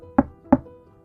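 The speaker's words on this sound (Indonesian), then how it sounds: "Tapi, ketukan itu masih terdengar" Two sharp knocks on a door, evenly spaced and close, each one a solid wooden thud followed by a brief ring, with quiet around them.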